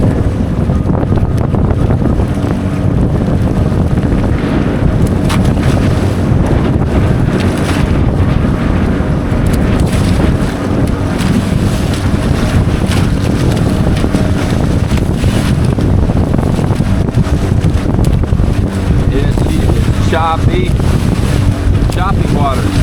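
A Sea Ray 240 speedboat cruises over choppy coastal water on an evening run, its engine drone blended with heavy wind buffeting and splashing spray, loud and continuous throughout.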